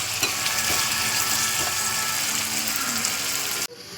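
Salted small onions fry in a pan while being stirred, a dense close sizzle broken by rhythmic scraping clicks of the utensil, cutting off abruptly near the end.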